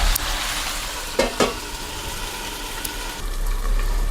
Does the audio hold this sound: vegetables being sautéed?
yes